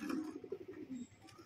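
A male pigeon gives a soft, low, throaty coo in a short rolling run, heard faintly and close with no voices.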